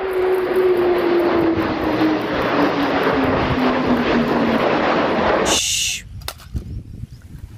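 An Indian Air Force military aircraft roars loudly and steadily with a slowly falling engine tone, then the noise cuts off abruptly, leaving quieter scattered sounds.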